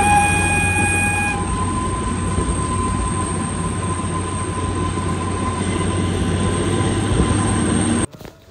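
The Shimla toy train rolls along its rails with a steady, close rumble and rattle of carriages, a whine fading early on, then the noise drops abruptly at the end.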